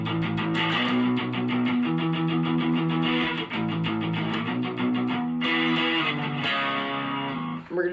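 Distorted electric guitar plays a song with palm-muted chugging, a steady driving rhythm of chords with brief breaks between phrases.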